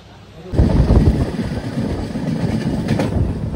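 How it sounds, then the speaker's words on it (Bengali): The Kandari Express passenger train rushes along at speed, a loud, continuous rumble and roar with rhythmic clatter of the wheels, heard from inside the carriage. "পুরো ঝড়ের গতিতে চলছে ট্রেন, 105-10-এ চলছে"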